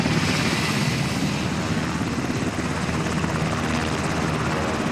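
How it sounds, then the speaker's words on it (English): An assault helicopter hovers about 90 feet off the ground during a U.S. Army Ranger live-fire exercise, its rotor and engine producing a dense, loud, continuous roar with steady blade chop. "From an assault helicopter hovering 90 feet off the ground"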